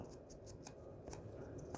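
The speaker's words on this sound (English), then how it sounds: "Regular scissors, if that's all you got, will work beautifully." Regular scissors snipping through paper from book pages, a series of faint, short crisp cuts in an irregular rhythm, close but quiet, with no talking.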